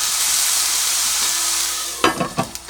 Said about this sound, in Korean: 가지를 이렇게 기름을 넣고 볶습니다